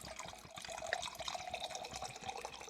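Water pours into a drink in a quiet, close trickle, a soft continuous liquid splash with small bubbling pulses lasting a few seconds.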